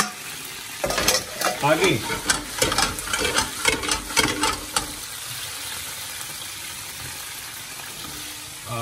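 Garlic and a long chili pepper fry in hot oil in a pan, with several seconds of scraping, clattering stirring over a bright sizzle that then settles into a steady, quieter hiss on its own.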